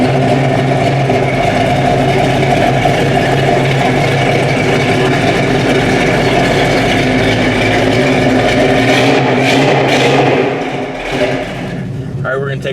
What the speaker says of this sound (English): I'm really enjoying this 1971 Challenger. Love the sound of it. It just sounds that awesome.